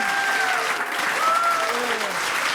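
Applause rises from an audience at a comedic talk, even clapping with voices and laughter-like tones woven through it.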